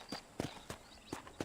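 Horse hooves clip-clop in Red Dead Redemption, several separate muffled steps at a slow, uneven walk near a hitching post, fairly quiet and with no voices.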